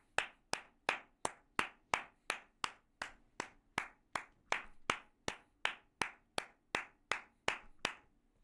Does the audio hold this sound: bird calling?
no